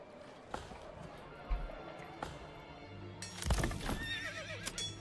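Horses neighing and whinnying with occasional hoof clops in the medieval city-building game Manor Lords, a bright whinny rising midway over a low ambient game bed, with faint scattered knocks and no talk.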